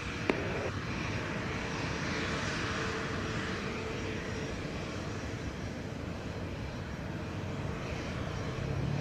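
At Montego Bay airport, a jet airliner's engines give a broad, steady roar at moderate distance, holding constant throughout with no voices over it.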